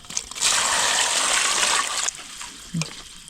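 Pork bones are washed in water for a Lao-style curry with thorny greens. A close splashing rush of water runs for a couple of seconds, followed by a small clatter.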